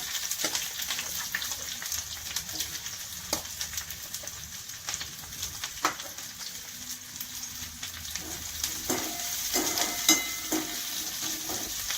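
Thinly sliced onion with a few garlic cloves sautés in a hot pan for Konkani cashew usal, giving a continuous oily sizzle broken by scattered spatula scrapes and stirring clicks, close and without talk.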